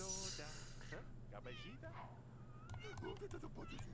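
A pet cat in The Sims 2 gives a few soft meows, heard faintly at low volume alongside quiet game sounds and background music.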